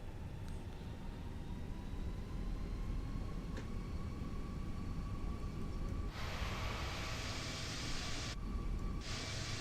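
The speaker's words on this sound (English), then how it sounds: "You can even hear the brake fan, that's nice." In an A320 flight simulator game, a steady mechanical whirr and broadband hiss drone on, with a louder brake cooling fan rush kicking in partway through and briefly cutting out.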